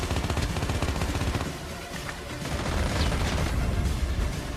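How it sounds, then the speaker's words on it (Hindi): Dense, loud gunfire from Call of Duty Mobile gameplay, continuous rapid bursts that briefly dip and then resume, with no voices. "बहुत तेज़ी से मतलब फायरिंग की आवाज़ आती है"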